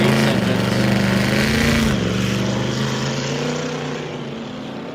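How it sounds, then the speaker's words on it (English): A race car with a Roush Yates NASCAR engine launches at an El Mirage land speed racing event, a loud, deep engine roar whose pitch climbs and then dips at a gear change before slowly fading into the distance. "You're wondering why that sounds like a NASCAR? Well, indeed, it has a NASCAR engine in it."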